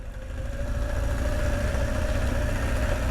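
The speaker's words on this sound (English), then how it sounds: "Let the engine do the braking." Car engine braking downhill in first gear with the clutch out on a mountain track, a steady low drone with a faint whine held at even pitch, close and continuous with no talking.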